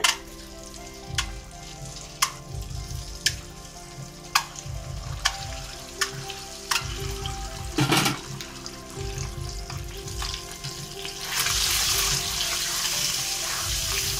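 Eggs fry in oil seasoned with salt and turmeric, giving a steady close sizzle punctuated by sharp clicks and scrapes of stirring, with a louder burst of frying near the end.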